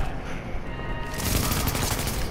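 Gunfire from a deployed turret in Tom Clancy's The Division, heard as a steady, moderately loud rattle of rapid shots that grows denser partway through.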